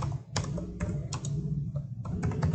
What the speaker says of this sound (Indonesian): Anda ketik input